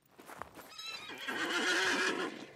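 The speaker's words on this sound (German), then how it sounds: "Ah, wieder Pferd." A horse whinnies loudly in the video game SCUM, a rising, wavering neigh lasting about a second, preceded by a few soft hoof clops.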